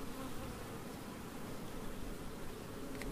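Honeybees buzz steadily at an open hive during queen raising, a dense, continuous hum of many insects close by with no talking.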